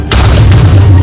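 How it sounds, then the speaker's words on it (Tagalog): A Minecraft creeper explodes in a single loud, close boom that fills the second with a heavy low rumble and a sharp secondary crack. "Sumabog yung creeper!"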